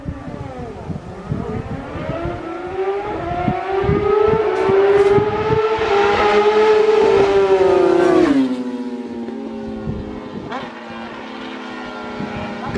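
Two BMW motorcycles, an S1000R naked bike and a faired S1000RR, race along a street, their engines rising in a loud climbing whine as they approach, peak and drop off as they pass.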